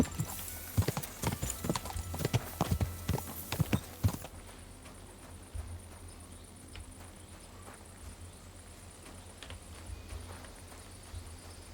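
Horse hooves clip-clopping in the video game Kingdom Come Deliverance 2, a run of close, quick hoofbeats for about four seconds, then fading into a quiet background of insects and crickets.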